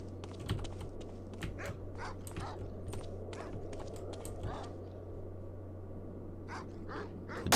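Repeated sharp barks from a dog in the World War II shooter game Medal of Honor: Allied Assault ring out over a steady low hum, fairly faint and irregularly spaced, with keyboard clicks mixed in.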